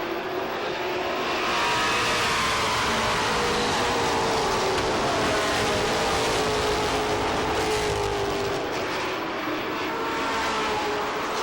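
Pro stock race cars at Lee USA Speedway roar back to speed on a restart, a dense, loud wall of engine noise that holds steady and swells slightly as the pack passes.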